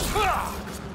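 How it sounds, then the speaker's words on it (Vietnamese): A brief mechanical click and clack of a gun being swapped in Mass Effect: Andromeda on PS4, loud and close, with a rising whirring tone, no talk. "Đè vuông mới chúng ta mới đổi được súng càng."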